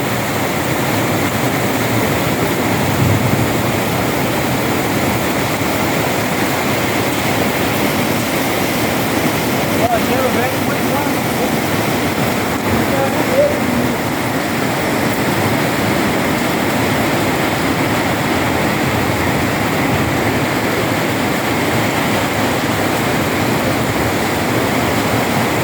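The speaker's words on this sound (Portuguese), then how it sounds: "Muita chuva, pessoal, muita chuva mesmo." Heavy rain pours steadily over a building construction site, with gutters overflowing and ice falling; a dense, continuous broadband roar holds evenly throughout, loud and close, with no breaks.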